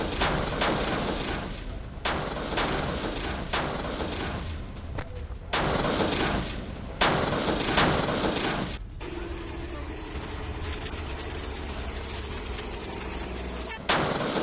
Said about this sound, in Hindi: रूसी बेस पर ये नए हथियारों से की गई शेलिंग की तस्वीर।